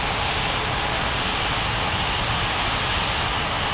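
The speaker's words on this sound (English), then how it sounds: "Blue Sky 5459 cleared for takeoff runway 35 right" Airliner engines running on a runway in a video game, a loud, steady, broadband jet roar that holds constant without change, with no voices over it.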